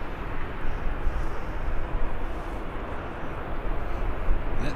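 Boeing Dreamliner airliner at Birmingham airport, a steady broadband jet engine roar holding at a fairly constant loudness throughout, with no voices over it.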